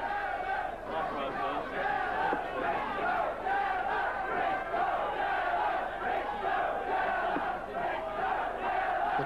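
A large indoor darts crowd at the 1983 World Darts final roars and chants continuously, a dense wall of many voices shouting and cheering at steady volume.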